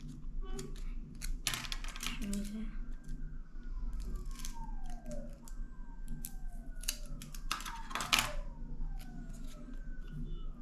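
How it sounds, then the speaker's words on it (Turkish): Tape being cut by hand while making a homemade squishy, with several sharp snipping and tearing sounds and crinkly handling scattered through the stretch, close and fairly loud, with no talk. "En sonunda bir de şuradan artan bantları keseceğim."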